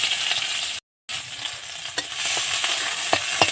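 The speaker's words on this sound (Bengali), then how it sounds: "এবার দেখো কড়াতে আমি তেল দিয়ে দিলাম, তেলটা অল্পই দিলাম। তেলটার মধ্যে দেখো আমি পেঁয়াজ কলিগুলো দিয়ে দিলাম।" Onion stalks frying in a little oil in a wok, a steady close hissing sizzle with light stirring scrapes and a brief gap near the start.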